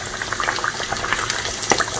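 Fish sauce with garlic and shallots simmers in a pan, giving a steady bubbling, crackling sizzle with scattered small pops, close and moderately loud with no talk.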